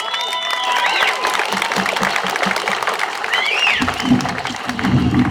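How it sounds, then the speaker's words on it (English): An audience claps and cheers as a guest is welcomed on stage, the applause steady and moderately loud alongside whistles and voices from the crowd. "give Lindsay a big round of applause, ladies and gentlemen"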